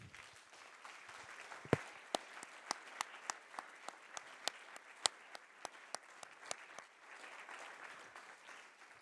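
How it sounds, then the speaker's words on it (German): A conference audience applauding at the close of a sustainability and digital transformation meeting, a fairly thin, distant-sounding spread of claps with individual sharp hand strikes standing out throughout. "da sollte man einen ordentlichen Applaus für geben"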